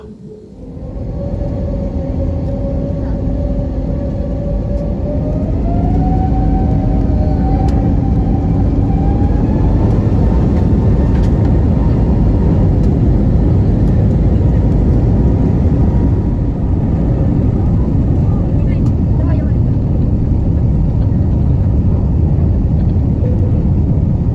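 An airliner on a Japanese budget carrier takes off bound for Okinawa, engines building from a steady roar to a loud, sustained full-thrust rumble with rising whine heard from inside the cabin.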